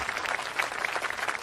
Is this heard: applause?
yes